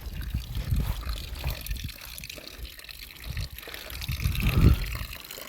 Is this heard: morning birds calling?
no